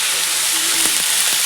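Beans and potatoes fry in hot oil with a steady, dense sizzle throughout, a few soft stirring clicks rising near the end; no one speaks.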